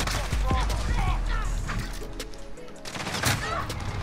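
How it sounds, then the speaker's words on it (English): Rapid bursts of automatic gunfire from a sentry gun in Call of Duty: Modern Warfare on the Shipment map, loud and close, with repeated sharp shots and a brief lull before firing resumes. "They got sentry guns over there"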